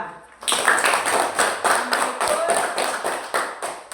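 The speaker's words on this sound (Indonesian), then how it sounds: "Mari kita tepuk tangan untuk kelompok 2" A group bursts into applause for group 2 in a classroom session, steady, fairly close clapping with a regular pulsing rhythm that starts abruptly and continues throughout.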